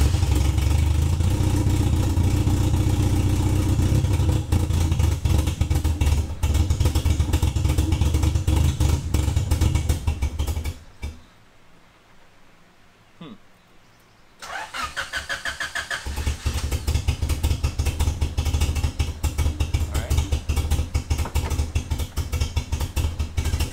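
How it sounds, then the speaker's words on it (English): A loud car engine with an open exhaust roars and revs with a raw, crackling exhaust rumble, cutting out briefly to quiet before roaring back up. "So like right here, it's just open exhaust."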